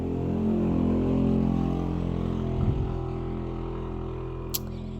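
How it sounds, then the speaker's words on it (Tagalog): A motorcycle engine drones close by and fades as it passes outside a store, with a sharp tap near the end and no talking. "Ang ingay ng motorsiklo na dumaan"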